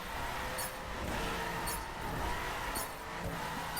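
A Ferrari 458 Speciale in the racing game The Crew drones steadily in 4th gear, a continuous close engine note with brief bright bursts recurring every second or so.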